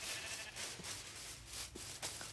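Sheep bleating in Minecraft as its wool is sheared, a few short, faint bleats over steady hiss and game noise, with no speech.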